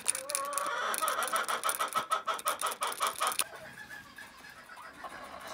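Several chickens cluck and squawk in a busy, overlapping series for about three seconds, loud and close, then fade to quieter background clucks and coop ambience.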